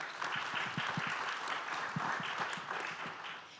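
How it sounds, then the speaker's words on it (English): Audience at a panel event on AI for development applauding a speaker, a sustained dense patter of many hands clapping at moderate volume, evenly spread throughout with a slight fade at the close. "Let's please give a hand clap to Mr."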